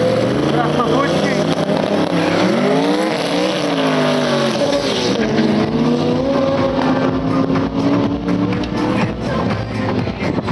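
Tuned VAZ 2108 turbo car launching on a drag strip, its engine loud and close, revving and rising in pitch through gear changes over about ten seconds, with a commentator talking over it.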